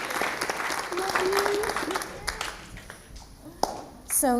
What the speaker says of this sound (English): We thought she deserved a round of applause.